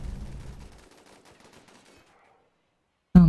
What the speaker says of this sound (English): even you can understand what gunshots are